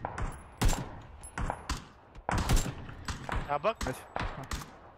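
Gunfire in PUBG during a friendly custom room match, with bursts of sharp shots scattered between excited voice chat, loud and close with short pauses between volleys.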